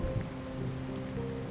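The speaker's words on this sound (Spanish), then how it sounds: "La lluvia continuaba" Steady rain falls on surfaces with a dense, continuous patter, uniform and fairly close throughout, with no voices or thunder.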